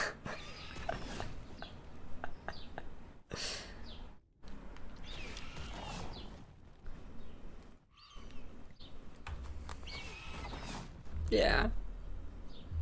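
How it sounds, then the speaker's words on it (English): Real birds chirping outside an open window, faint high chirps and calls scattered in the distance under game sounds and a brief spoken word. "my window's open and you're hearing real birds too"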